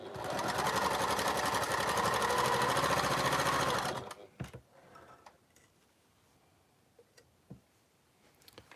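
A sewing machine runs fast and continuously, sewing a 1/4 inch seam on a quilted interlocking triangles piece, then stops, leaving faint clicks and fabric handling.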